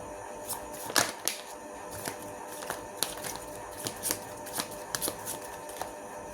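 Tarot cards shuffled by hand during a reading, a series of soft riffling bursts and taps spaced through the clip, close and quiet with no talking.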